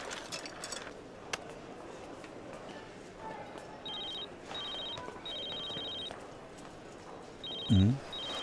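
A telephone rings in short repeated electronic trills, moderately faint, with quiet talk and a brief thump near the end.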